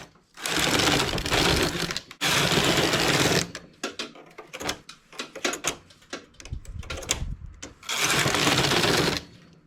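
Knitting machine carriage working a ribbed blanket, loud mechanical whirring sweeps alternating with clattering knocks and brief pauses between passes, close up with no talk.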